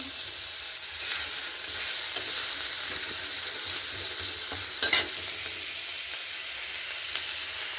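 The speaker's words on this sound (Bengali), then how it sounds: "একটু পেঁয়াজ বাটা দিয়ে দিচ্ছি" Onion paste frying in hot oil, a steady close hiss and sizzle with occasional soft stirring scrapes, continuous and with no voices.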